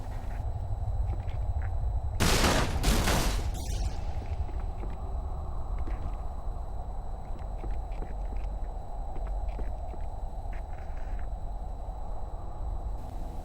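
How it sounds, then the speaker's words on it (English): A Halo 2 Enforcer fires red needles and bombs in one loud, harsh burst lasting about a second, then falls back into low ambient rumble and faint scattered clicks. "the Enforcer switches back and forth between firing those red needles and bombs from its back"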